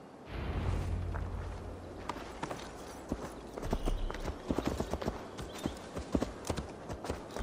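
Horse hooves clip-clop at a walking pace while riding through a forest in Gloucestershire in the video game Assassin's Creed Valhalla, steady close footfalls over a low ambient rumble.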